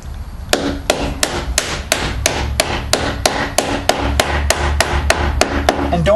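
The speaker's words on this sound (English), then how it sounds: "Then you take your screwdriver handle and tap it into place." A screwdriver handle taps a replacement flap into a pet door frame, producing about sixteen evenly spaced, sharp plastic knocks in a steady rhythm, close and loud with no talking.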